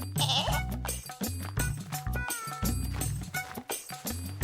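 A goat bleats repeatedly in loud, close, wavering cries, one call after another with short gaps between them.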